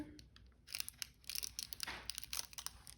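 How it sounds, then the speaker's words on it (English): Scissors snipping and crinkling a plastic buttercream piping bag, a run of close, sharp rustles and cuts over a few seconds. "get a pair of scissors. I'm gonna cut it about right there."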